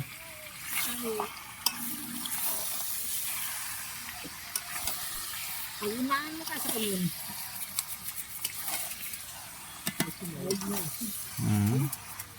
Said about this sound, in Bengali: আমাদের কড়াইতে মাংসটা দেওয়া হয়ে গেছে এখন মশলার সাথে ভালো মতো মিশিয়ে কষানো হবে